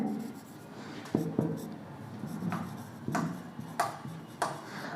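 Writing on a board during an English grammar lesson on reciprocal and demonstrative pronouns, heard as a few scratchy strokes and sharp taps spaced through the clip, close and moderately loud in a quiet room.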